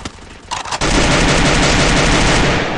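Rapid automatic gunfire in the Free Fire mobile video game, a few sparse shots at first, then a loud, continuous rattling burst that fills the rest of the clip.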